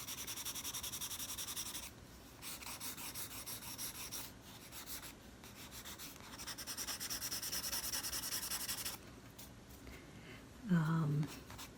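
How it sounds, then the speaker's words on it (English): A finger rubs over pencil shading on paper to blend a portrait drawing, producing soft continuous scraping strokes with brief pauses, quiet and close. "just a little light and rubbing it right now with my finger"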